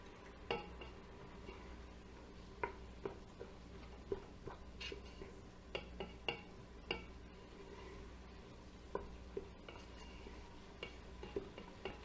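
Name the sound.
stirring onions in a pot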